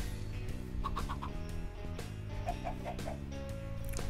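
Minecraft chickens cluck in short bursts over a looping, bright game-style music track, the clucks repeating in small clusters.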